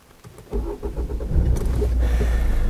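A car pulls away for a drive to the post office: a door or window whir gives way to the engine's steady low rumble building up as the car gets moving, close and fairly loud, with no talk.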